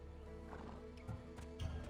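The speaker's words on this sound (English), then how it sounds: "I heard the neigh of a fierce horse." A fierce horse in a Fate of Atlantis game cutscene gives a brief whinny along with a few clip-clopping hoof thuds, faint and close over a low droning background score.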